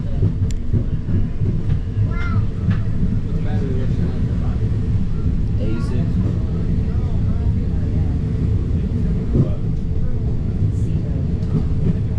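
Steady low rumble of a mountain train climbing steep grades up Pikes Peak, continuous and fairly loud, with faint squeals and murmuring voices in the background.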